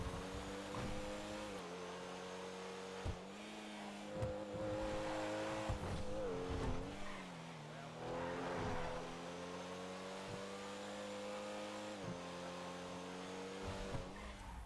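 A Comet S2 sports car in GTA V, modelled on a Porsche 911, drives with a steady engine drone whose pitch rises and falls through gear changes, with tyre squeal and a few thumps along the way.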